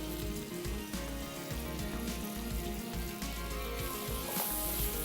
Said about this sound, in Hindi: इसको थोड़ा सौते करेंगे